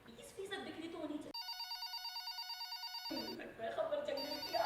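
An office telephone rings with a clean electronic bell trill that pulses steadily for nearly two seconds, with muffled voices and stage sound before and after it.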